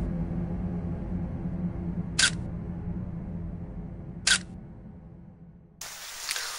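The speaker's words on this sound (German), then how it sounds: "Nebenher wurden noch direkt schon ein paar Fotos geschossen." A camera shutter fires twice, sharp isolated clicks a couple of seconds apart, over a steady low hum beside a mausoleum, followed by a burst of brighter noise at the end.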